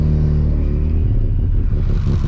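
A hot Mazda RX7 rotary engine idles and revs in a low, rough, lumpy rumble, running unevenly as if misfiring, loud and close with a slight rise in pitch toward the end.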